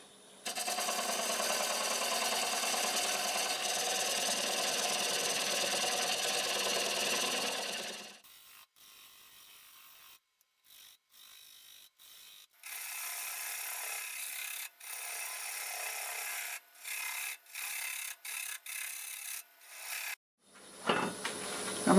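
A half-inch bowl gouge cuts into an apple wood bowl spinning on a lathe at 600 RPM, a steady, rough scraping rasp for several seconds, then a hush followed by broken, intermittent cuts with brief gaps between.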